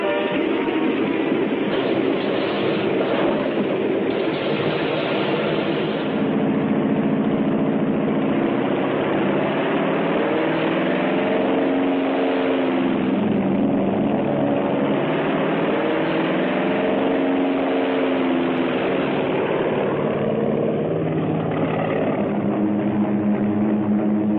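Several World War II carrier aircraft piston engines roar on a flight deck, a dense, loud, continuous drone with shifting throbbing tones as the engines run up, sustained throughout on a muffled old film soundtrack with no talking.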